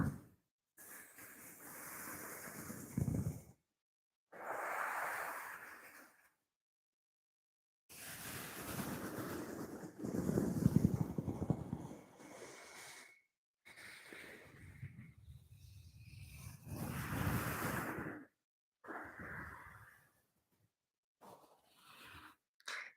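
Soft ASMR sounds imitating sea waves crashing on rocks, made in swelling broadband bursts separated by short silences, close and gentle with no talking.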